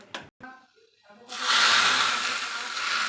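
A few clinks and knocks, then a sudden loud hiss and sizzle as hot oil tempered with bay leaf, dried red chili and five-spice is poured into khichuri, the sizzle staying strong and close.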